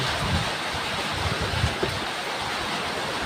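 A steady, even rush of air from an Exus electric fan blowing close by, with a soft broadband whoosh and no talking.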